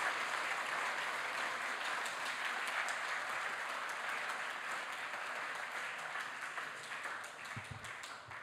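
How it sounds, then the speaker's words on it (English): A large audience applauds year nine award recipients at a school presentation day, with dense, steady clapping held at an even level for the whole stretch, then thinning slightly near the end. "have a big round of applause for all of our year nine recipients"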